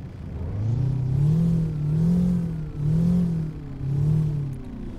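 A Kenworth W900A truck with an 8V engine, in American Truck Simulator, revs repeatedly in four rising-and-falling pulls, a loud close mechanical drone with no talk over it.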